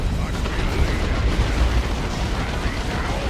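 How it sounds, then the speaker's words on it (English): Grenades, stun grenades and stick bombs bursting in Dawn of War 2 battle, a dense rumble of overlapping low booms and pops running continuously without clear separate blasts. "Stick bombs, throwing some grenades"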